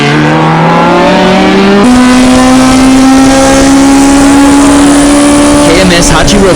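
Toyota AE86 Hachiroku race cars run hard down a track straightaway, engines droning loud and steady with a pitch that climbs as one pulls away, all under a commentator's voice.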